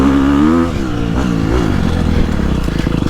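A Gas Gas EX250F dirt bike engine accelerates and pulls hard through a long gear, a loud, close, continuous engine roar that climbs steadily in pitch.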